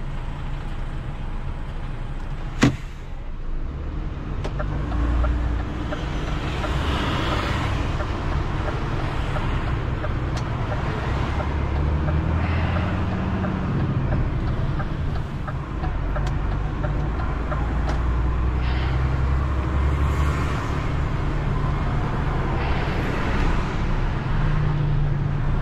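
Central London road traffic from a vehicle towing a 79-seater coach: a continuous low rumble of engines and passing cars, steady and fairly loud throughout, with one sharp click near the start.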